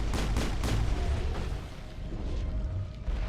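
Rapid gunfire in the sci-fi shooter Mass Effect cracks out in several quick close shots at the start, then gives way to dense ongoing combat rumble with no talking.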